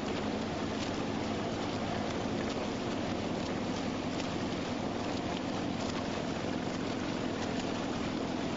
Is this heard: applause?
no